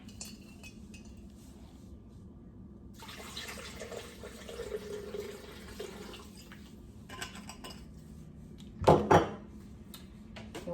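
Water pours steadily into a blender jar for a homemade liver and kidney detox drink, a soft continuous rush lasting a few seconds, followed by a couple of sharp clinks of a utensil or jar.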